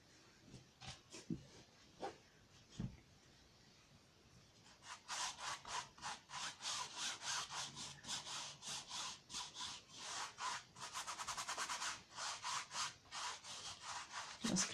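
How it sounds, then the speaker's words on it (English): A cotton swab scrubbing paint onto a canvas to cover pre-printing, close and faint, with a few scattered scratches followed by a rapid rhythmic back-and-forth rubbing that continues to the end. "just kind of scrub it on anywhere where it doesn't look entirely covering"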